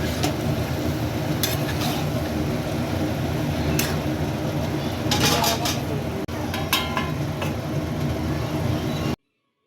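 Radish cooking slowly in a pan over low heat, stirred with a utensil: a constant soft sizzle under intermittent metallic clinks and scrapes against the pan, ending abruptly.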